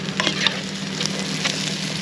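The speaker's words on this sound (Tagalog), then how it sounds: "Gisa-gisa lang natin." Garlic sautéing in a hot pan for Filipino chicken-feet adobo, a steady close sizzle with light stirring scrapes and crackles throughout, no voices.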